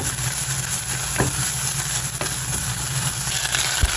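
Shawarma meat frying in a pan with ketchup mixed in gives a steady, close sizzle with occasional stirring scrapes, continuous for several seconds without talk.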